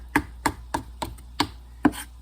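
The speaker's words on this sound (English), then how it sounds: "I'm just chopping my cilantro" Cilantro is chopped with a knife on a board, about seven crisp, evenly spaced thuds in quick succession, close and clear.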